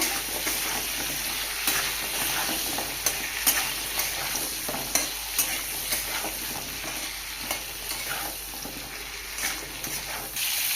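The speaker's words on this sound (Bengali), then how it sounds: "পটল ভেজে নিয়েছি" Steady oily sizzle of pointed gourd pieces frying in turmeric-spiced oil in a pan, with occasional stirring scrapes and small pops throughout, close by with no voices.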